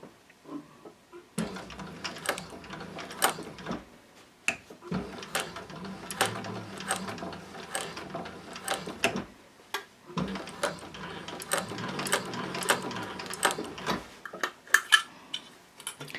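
A Techsew 4800 Pro sewing machine stitches in two long runs of rapid mechanical clatter, separated by brief pauses, close and clear with no talking.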